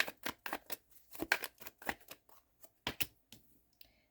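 Tarot cards being shuffled during a reading, a run of quick papery riffles and soft slaps that come in bursts and pauses, close and moderately quiet, with no talking.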